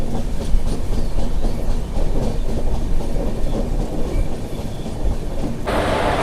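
Secunderabad–Shalimar weekly AC express running on rails, a loud continuous rumble with rhythmic clickety-clack of wheels over joints, heard from inside a coach, with a brief brighter hiss near the end.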